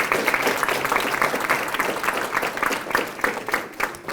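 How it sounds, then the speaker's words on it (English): Steady audience applause fills an Elks awards banquet honoring a graduating student, many hands clapping densely and evenly throughout with a lively, close crowd texture. "Clap it up."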